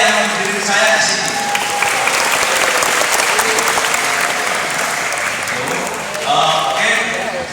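An audience at a Balekambang santri literary event claps in a dense, sustained round of applause, with a voice talking over it at the start and end.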